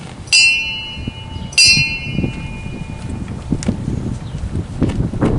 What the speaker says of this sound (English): 2 bells will sound for the time of the attack took place, 2 p.m.